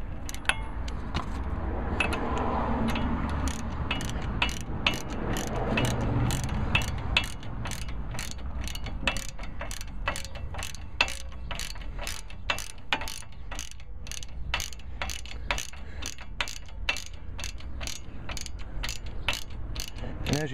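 A hand ratchet tightens a tie rod end nut on a vehicle's steering knuckle, giving a long run of crisp, evenly spaced clicks close by with faint background noise and no talking.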